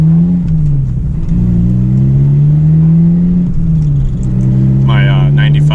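A 1995 Toyota Celica engine drones steadily while driving, a loud low hum holding throughout with slight rises and dips in pitch and brief higher tones near the end.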